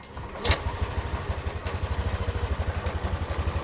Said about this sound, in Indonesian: sekarang gue mau cobain nyala pertama kalinya mesin motor ini